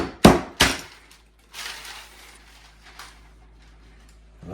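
A hammer strikes hardened cinnamon rock candy twice in quick succession, close and sharp, followed by faint crunching and shifting of the broken pieces.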